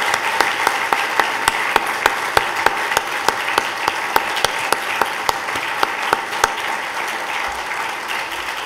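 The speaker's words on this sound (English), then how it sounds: "Let's give our panelists another round of applause." An audience applauds a panel of women judges at a law school event, a steady round of clapping in a large room with a few sharp, nearby claps standing out through the whole stretch.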